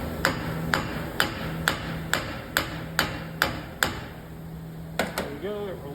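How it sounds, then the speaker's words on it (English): A hammer strikes a seized wheel bearing hub on a 2017-2020 Ford F-150 4x4 about ten times at a steady pace, sharp ringing clanks up close, followed by a brief voice at the end. "I'm just going to thread this back on and smack it with a hammer"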